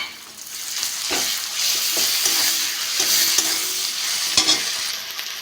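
Onions frying in a pan on the stove, a steady loud sizzle broken by scraping stirs of a spatula, with no voices over it.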